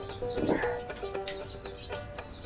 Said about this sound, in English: I hear my old bird friend out there.